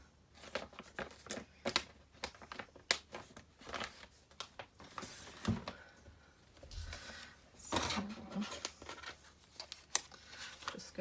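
Scissors snip through paper and card stock during card making, a close run of short, irregular cuts mixed with light rustling and crinkling of the paper, with no voice.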